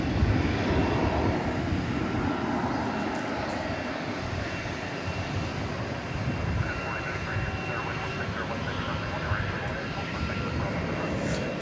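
A plane taxis at DFW Airport at night, its steady broadband engine roar filling the scene at moderate distance, holding constant throughout without clear breaks.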